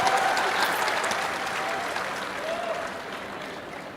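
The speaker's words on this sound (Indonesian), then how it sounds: "Kasih tepuk tangan dulu." An audience at a crowded youth gathering in Semarang breaks into loud, dense applause that slowly fades over a few seconds.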